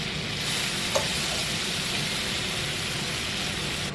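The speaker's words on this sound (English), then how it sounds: "Add 1 whole diced onion in. Let that saute for a minute or 2." Diced onion sautés in a pan while cooking chicken, a steady, close, fairly loud sizzle over about four seconds with one brief clink of a stirring utensil near the start, and no talking.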